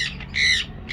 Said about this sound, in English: We have found a whole bunch of birds and a duck.